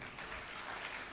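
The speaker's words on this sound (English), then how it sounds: "I thought you would clap for them." Brief burst of audience clapping at a university convocation ceremony, celebrating first-class graduates; a dense, even patter of many hands lasting about a second.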